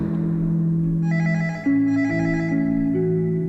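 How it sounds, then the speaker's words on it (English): A telephone rings in a dark horror setting, a steady electronic trill repeating in short bursts over a sustained low tone, loud and close, with no voices. "The sound of that phone ringing had become sickening"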